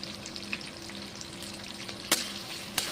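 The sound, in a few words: onions and tomatoes frying in a pan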